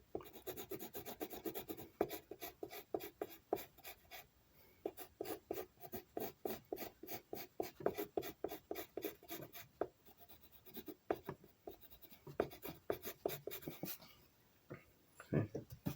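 A pencil is drawn across paper in rapid rhythmic back-and-forth strokes, close and soft, with brief pauses between runs of scribbling while making a guardian angel silhouette drawing.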